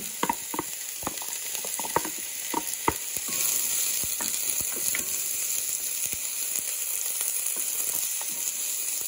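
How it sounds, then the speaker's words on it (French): Onions hitting hot oil in a large pot, sharp clattering drops and crackles at first settling into a steady, close sizzle without talk. "Je mets les oignons."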